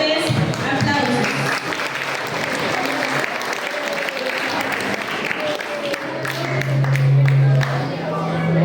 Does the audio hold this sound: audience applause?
yes